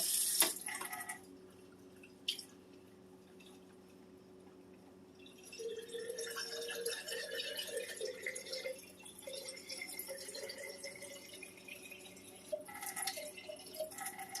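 Water poured into a jar while making lasagna: a gentle, steady filling trickle rises after a quiet start, close and faint, with a few light knocks.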